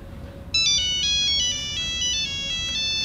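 A phone ringtone plays a bright, repeating electronic melody at fairly close range over a low background hum, sounding for several seconds with no one speaking.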